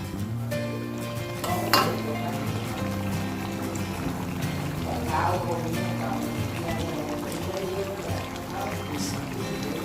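Seasoning pours into a northern Thai dry-fried free-range chicken stir-fry over fierce heat. Close metal clinks and scrapes of pan and utensils run through it, with a soft pouring sound and a voice speaking faintly in the background.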